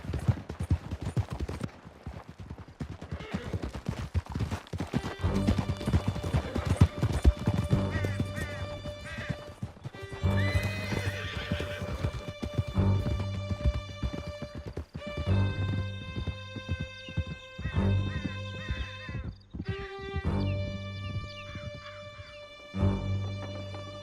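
Horses gallop in Red Dead Redemption 2 with rapid clip-clopping hoofbeats and repeated neighs and whinnies, mixed with distant gunfire and game music beneath.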